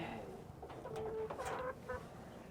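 Chickens clucking in a backyard poultry pen, a few close, overlapping clucks and short calls in an irregular rhythm over a low steady background.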